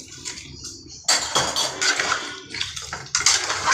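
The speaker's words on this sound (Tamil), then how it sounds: "தேவையான தண்ணி ஊற்றிக்கோங்க." Water poured into a cooking pot of crab gravy with masala, a splashing, rushing pour that starts abruptly and runs steadily with small surges and metallic clinks, close by and fairly loud.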